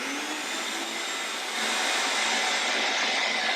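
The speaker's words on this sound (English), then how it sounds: "Just turn on the vacuum." A vacuum cleaner running to pump air into a pair of waders during a repair, a loud steady whine and rushing airflow that swells slightly midway and continues unbroken.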